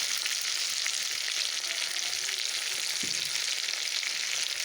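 Chicken kadai frying in a pan, a dense, steady hiss of sizzling oil, close and constant throughout, with a faint stir near the middle.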